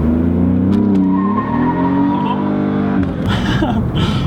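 A car on skinnier tires launches from a standstill, its engine rising in pitch as it revs and accelerates, with a shift and renewed climb near the end, close and loud.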